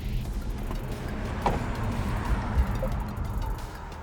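A 2024 BYD Seal electric car accelerating hard on a wet track in China, heard as a steady low rumble of tyre and road noise with faint drips and no voices.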